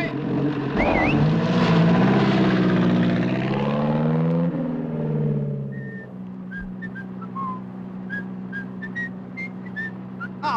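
A propeller aircraft engine starting for takeoff on an airfield, a loud whining tone that rises and falls before settling into a steady low drone with brief high chirps above it.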